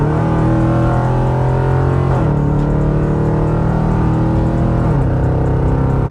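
A 2021 Dodge Durango RT with straight-piped exhaust pulls hard in sport mode, a loud, continuous droning engine note rising steadily through two gear shifts, heard from inside the vehicle.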